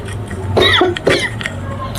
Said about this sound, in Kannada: ಗೆಸ್ ಕೆಮ್ಮು ಬರ್ತಿದೆ